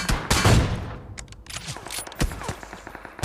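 Gunfire in a PUBG Mobile squad match: a loud, sharp opening shot with a ringing tail, then a scatter of rapid shots and short bursts. No voices are heard.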